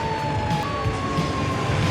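A police siren wails steadily in a fast, sustained tone throughout, chasing a speeding motorcyclist in an anime, loud over continuous engine and traffic noise, with no talking.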